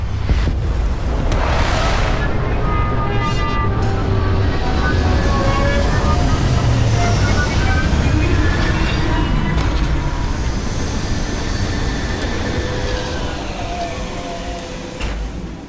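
A spaceship landing in the game Starfield produces a loud, continuous roaring rumble with a whooshing, hissing edge that holds steady and then eases slightly toward the end.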